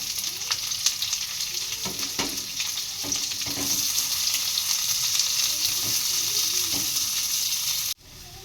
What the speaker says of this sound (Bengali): দেখুন পেঁয়াজ ভাজা হয়ে গেছে লাল লাল করে